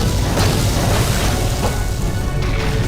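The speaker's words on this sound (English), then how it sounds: "Big explosions." Explosions rumble in the Star Wars game Knights of the Old Republic, a continuous loud, booming roar with heavy low end and scattered bursts throughout, no talking over it.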